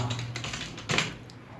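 Soft computer-keyboard typing in Adobe Illustrator, a quiet run of close key taps with one firmer clack near the middle.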